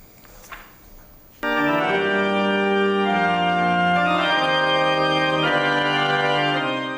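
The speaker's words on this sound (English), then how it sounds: "That's the sound of one of UNT's 7 organs being played by a student" After a brief quiet moment, a pipe organ enters with a loud sustained chord that holds and shifts, full and resonant.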